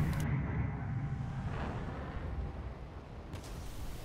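Aircraft cannon fires a few rounds during a jet dogfight in War Thunder, heard as brief booming bursts near the start and again near the end, set against a steady, loud engine roar.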